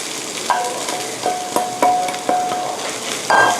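Chopped shrimp and grated coconut stir-fried in a pan as a topping for sticky rice, with repeated metal spatula scrapes and clanks over a steady low sizzle, close and fairly loud, no talking.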